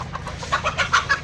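Chickens clucking close by, a steady run of short, repeated clucks from several birds over a low background rumble.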